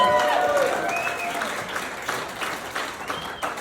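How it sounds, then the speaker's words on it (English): A comedy club crowd gives a round of applause for the bar staff, with a burst of clapping and cheers, including a whistle, that thins out while scattered claps and voices continue. "a nice round of applause for your bar staff"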